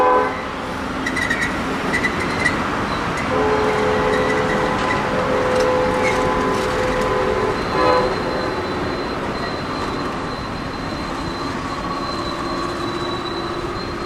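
An Amtrak passenger train rolls slowly past at 39th Street in Tampa, at about 15 miles an hour, with a steady rumble of cars, squealing wheels and a faint horn-like tone.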